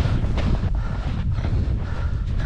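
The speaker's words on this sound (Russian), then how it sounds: "еще дует. Ветер сильный." Strong wind buffets the microphone outdoors on a snowy trail, a loud, continuous low roar with gusty swells throughout and no voices.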